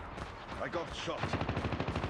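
Automatic gunfire rattles in a shooter video game, rapid rhythmic bursts that settle into a steady stream of shots, with clipped radio-style voice callouts mixed in.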